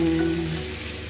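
Corned beef with onions cooking in a pan, giving a steady close sizzle with a faint hum and no voices.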